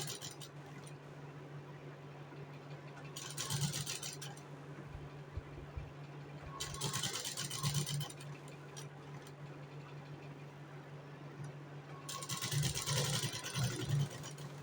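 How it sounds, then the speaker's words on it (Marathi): A sewing machine running steady stitches through fabric pinned to canvas for a blouse back neck, a continuous low mechanical hum with brighter bursts of needle clatter in several spells, close, no talk. "कॅनव्हस हालू नये म्हणून आता मी याच्यावरती शिलाई मारून घेते."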